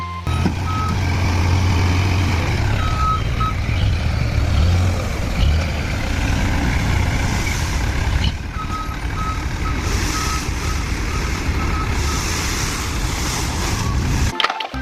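A toy robot gravel truck plays a repeating electronic reversing beep over a loud, steady rumbling noise that lasts the whole stretch before cutting off abruptly near the end.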